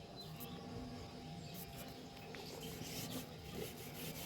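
A cloth rubs primer onto a board outdoors, giving soft, repeated scraping and swishing strokes close by over quiet ambient noise, with no talk.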